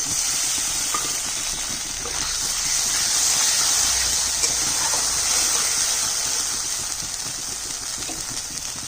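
Green chili with black cumin, cumin and ginger pastes tempered in hot oil, a loud, steady sizzling hiss that swells and fades slightly, close and continuous without talk.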